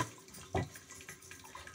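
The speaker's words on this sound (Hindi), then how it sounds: "एक्सेस पनीर में निकाल, पानी निकालते जा रही हूँ," Excess water draining from pressed homemade paneer, a short close splash and trickle of liquid into a sink-like space, then faint dripping that quietly follows.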